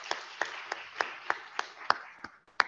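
A small congregation claps for a parishioner, about ten distinct, evenly spaced hand claps, faint and sparse, like one or two people clapping in a quiet room.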